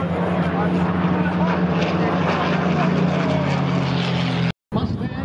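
A P-51 Mustang propeller fighter flies past at an airshow, its engine a loud, steady droning roar that holds for several seconds before cutting off abruptly, with a brief return of noise afterward.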